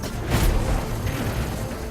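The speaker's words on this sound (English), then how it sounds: "This is an exotic trace rifle. Fire it on an enemy and it creates a big old crit spot." An exotic trace rifle fires in Destiny 2, a loud booming burst that swells early and then leaves a sustained rumbling roar.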